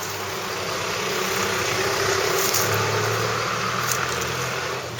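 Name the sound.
traffic noise from a busy street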